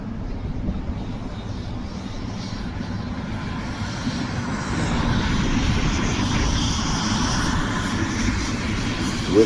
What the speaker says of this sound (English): With my windows up, I can already hear the helicopter engines.